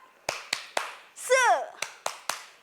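A group of children claps in a steady rhythm, three sharp claps, then a short burst of voices, then three more claps.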